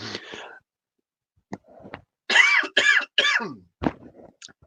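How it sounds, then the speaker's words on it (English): Several wet, phlegmy coughs close to the mic, with throat clearing and short pauses between bursts. "It's a wet cough"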